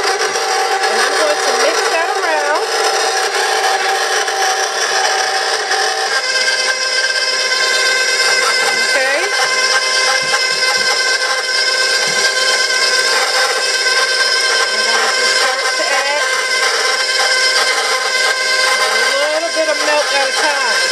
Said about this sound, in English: Take some salt and pepper, your butter, and put it in your mixer. And I'm going to mix that around.